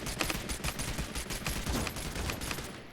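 Rapid gunfire in the video game Realm Royale, a quick run of sharp, evenly spaced shots at moderate distance that tapers off slightly at the end, with no talk.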